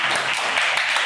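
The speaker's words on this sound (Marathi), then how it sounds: "रुद्रसाठी टाळ्या वाजवा जोरात." Children clap for Rudra in a classroom, a brief burst of steady, dense applause from a small group, fairly close and continuous.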